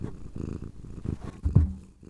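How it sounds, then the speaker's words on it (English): Close to the microphone, a pet cat purrs in a deep, rumbling rhythmic pattern, loud and steady with brief pulses, heard alone without talk. "my cat has chosen to join us"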